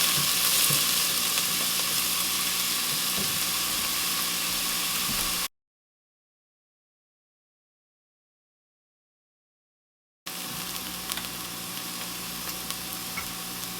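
Kale cooking in a pan, a steady close sizzle and frying hiss with faint stirring, broken by a stretch of total silence before the sizzling resumes.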